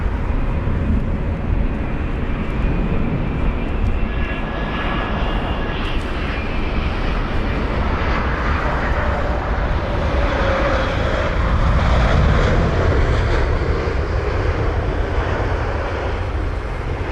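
A Boeing 787 Dreamliner, registered in May 2014, lands at London Heathrow with a steady, loud broadband jet roar that holds throughout and swells slightly near the end.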